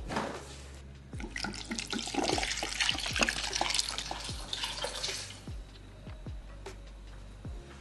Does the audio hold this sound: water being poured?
yes